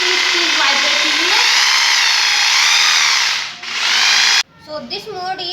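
A Bosch GBH 220 hammer drill runs in hammer-only mode, loud and close, with a steady buzzing hammer action and a brief dip before it stops; a voice follows.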